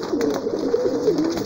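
Pigeons in a loft coo close by, a continuous, warbling, throaty murmur rising and falling without pause.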